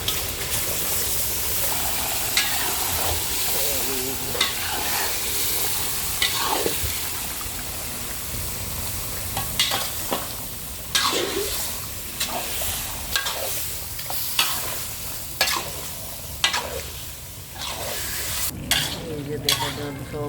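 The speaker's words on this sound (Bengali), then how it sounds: "মাংস দিয়ে মশলা মিক্স করা শেষ" Beef chunks and spice paste frying in a pan for a Bengali beef curry, sizzling steadily throughout with repeated scraping stirs of a spoon against the pan, close and fairly loud, no talk.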